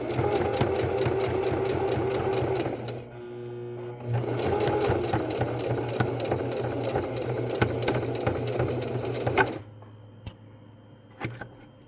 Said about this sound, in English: Just finishing the top stitch part.